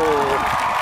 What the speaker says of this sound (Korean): 박수 쳐줍시다